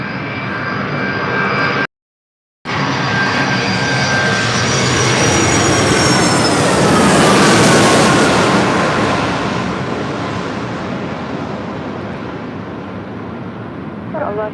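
A United Airlines Boeing 757-300 arriving at LAX from Chicago O'Hare roars in loud and close, its whining engine tones bending downward as it passes overhead, then the jet noise slowly fades; a brief dropout breaks the sound early on.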